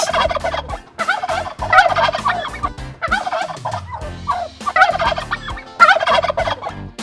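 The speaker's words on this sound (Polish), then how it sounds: "To indyk! Indyk gulgocze." A turkey gobbles loudly several times in rapid, warbling bursts, close up, with no talking.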